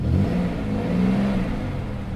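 A 2004 Pontiac Grand Prix GT1 Wide Track running in reduced engine power mode and with a partly flat tire holds a low, steady engine drone with a slight rise as it starts to move off, recorded nearby.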